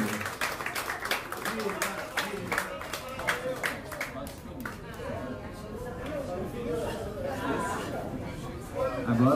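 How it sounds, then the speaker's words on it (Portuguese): An audience claps and chatters in a lively room, a burst of close, irregular hand claps that fades into a mix of overlapping voices and murmuring. "palmas para a Hilda, gente"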